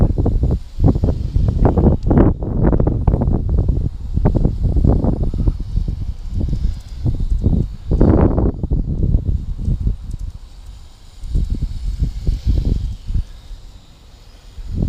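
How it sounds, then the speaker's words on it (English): Stiff, gusty wind buffets the microphone outdoors while a Huiying Toys X6058 quadcopter fights it in flight, a loud rumbling roar that surges and dips in uneven bursts before easing near the end. "That's the wind pushing it right there. So you can see that the wind's fairly stiff."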